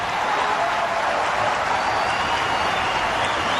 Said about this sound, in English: listen to the applause in here